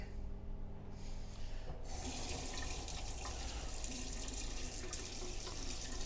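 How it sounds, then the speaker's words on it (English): A hotel sink tap in a cheap Leeds city-centre hotel runs hot water, starting with a low hum and then bursting into a steady, close, hissing splash of flowing water that continues to the end, with no talking. "Hot water's coming through."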